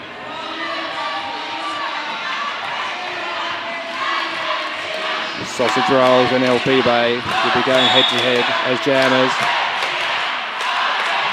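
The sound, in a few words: roller derby crowd cheering for Argentina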